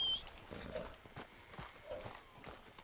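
Horse hooves clip-clop in Red Dead Redemption 2, a short run of soft, irregular hoofbeats on the ground, fairly faint and close, with a little game ambience behind them.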